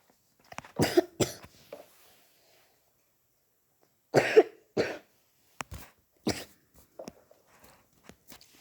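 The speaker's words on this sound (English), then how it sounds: "sorry for that coughing." Several sharp coughs with some throat clearing come in two clusters separated by a quiet pause, close and fairly faint in a quiet outdoor setting during winter.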